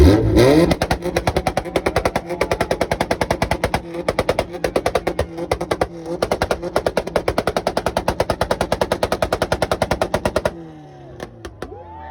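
A Mazda RX7 and an Acura Integra hold two-step launch control together at a car meet in Loveland, Colorado, firing loud rapid machine-gun-like backfire pops in long bursts over a revving engine, then a short quieter tail with a few scattered pops.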